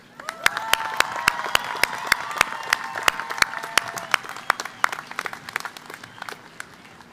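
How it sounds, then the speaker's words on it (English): A crowd at a college commencement ceremony claps loudly and steadily, dense applause with sharp individual claps standing out near the front, swelling then gradually thinning toward the end. "Please join me in a round of applause for everyone who helped make this ceremony possible."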